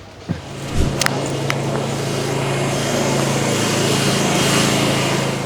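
Steady street traffic rumbles around an outdoor film set in a city, with engine drone and passing vehicles, including cleaning trucks, making a continuous broadband roar after a few sharp knocks early on.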